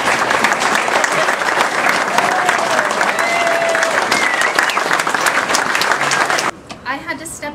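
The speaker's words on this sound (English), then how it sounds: "Give yourselves a round of applause." A crowd at an Elks lodge gathering breaks into loud, dense applause mixed with voices, holding strong for several seconds before cutting off and giving way to a person speaking.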